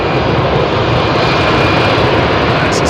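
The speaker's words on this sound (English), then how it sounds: "That's a CFM 56 engine, you see. See how noisy that is." CFM56 jet engine on an aircraft departing Heathrow runway 27R, a very loud, close, continuous roaring rumble filling the whole moment with no voices.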